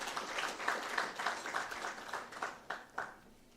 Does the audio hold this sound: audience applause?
yes